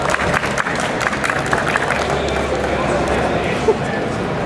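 Audience applause at a talk on kratom as a speaker is welcomed to the stage, steady dense clapping and crowd noise lasting several seconds while a voice talks over it.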